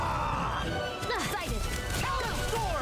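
Rocks crash down during a battle in the video game Tales of Arise, with repeated smashing impacts and sweeping effects over a steady bed of game music, with voices speaking.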